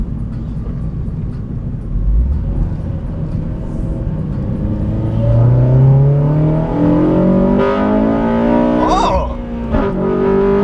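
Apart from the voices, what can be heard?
Honda Civic Si engine revving hard up to VTEC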